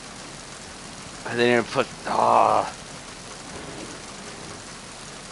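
Heavy rain pours down in Metal Gear Solid 2, a steady, dense hiss that runs throughout, with a man's brief remark and a short noisy burst over it.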